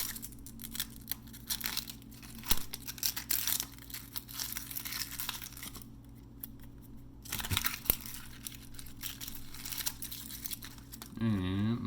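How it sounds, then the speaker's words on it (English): Papery outer onion skin being peeled by hand in a kitchen, close crinkling, tearing and crunching in irregular bursts with brief pauses, over a low steady background hum. "I'm going to top it, split it in half, peel off this outer skin"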